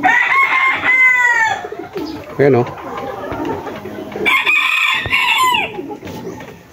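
Gamecock stags of Papay Gray over Golden Boy bloodline crowing nearby, several loud drawn-out crows overlapping with clucks and other fowl calls, while someone speaks briefly between them.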